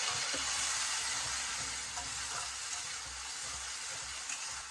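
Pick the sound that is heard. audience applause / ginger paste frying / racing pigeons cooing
ginger paste frying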